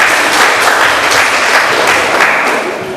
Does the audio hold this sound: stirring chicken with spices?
no